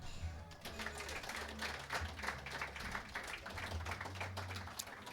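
Studio audience applauding the production crew during a recorded broadcast show, with scattered claps over a low background hum.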